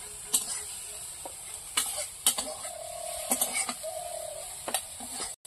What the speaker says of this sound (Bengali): চিংড়ি মাছ ভাজা হয়ে গেছে, তুলে নেব।